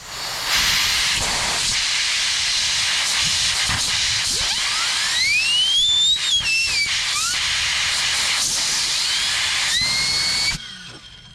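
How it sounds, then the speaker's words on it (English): Compressed air blasts debris out of a chainsaw around the sprocket, a loud, sustained close hiss with rising whistling tones as the nozzle spins parts, cutting off abruptly near the end. "Okay, so that's all cleaned up with air."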